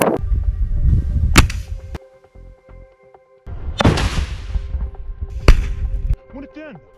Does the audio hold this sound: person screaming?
no